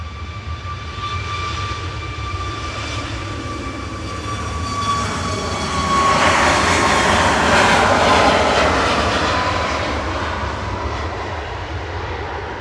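A TUI SmartLynx airliner starts its takeoff roll at Manchester Airport, a high engine whine building into a loud, rushing roar that peaks and then begins to ease off.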